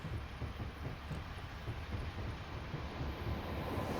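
A Class 105 diesel train runs along the track at night in western Scotland, a steady low rumble and rolling clatter that stays at an even level throughout, with no voices.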